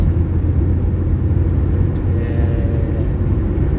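A 1993/94 Ford Escort GL 1.8 cruises on a highway, its steady, loud low road rumble and engine drone heard from inside the car, with one brief sharp click partway through.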